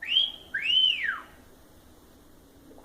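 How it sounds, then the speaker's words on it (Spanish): A loud two-part catcall whistle in the street, a short rising note followed by a longer rising-and-falling wolf whistle, then quiet. "Alguien me chifló por la calle"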